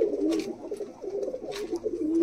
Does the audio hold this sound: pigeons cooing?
yes